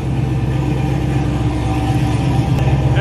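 A turbocharged 6.0 engine in a Camaro idles steadily in a shop, with a loud, close, even rumble and continuous low-frequency throb holding a constant pitch throughout, with no talking.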